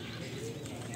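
A caged bird coos softly in Atitlán, Guatemala, a brief low cooing heard up close over steady background noise.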